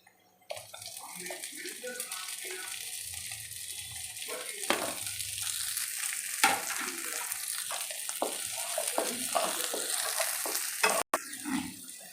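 Broccoli and onion stir-fried in a pan for homemade white sauce pasta, a continuous sizzle with scraping stirs and clatter close by, ending in a brief sharp knock.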